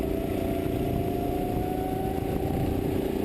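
Racing kart engines in a VSK league sim race drone steadily at a constant mid-pitched buzz, a continuous close engine hum with no pauses and no talk.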